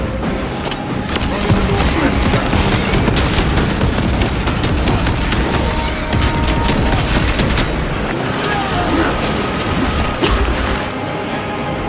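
Intense Warhammer 40,000: Space Marine II combat fills the mix with a grenade blast, continuous rapid gunfire and crashing impacts, loud and dense throughout with no pause.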